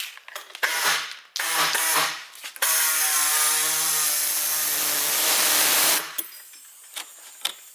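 Power tool cutting the plastic bumper of an R34 Skyline: short bursts, then a sustained loud grinding cut of about three seconds, close and alone.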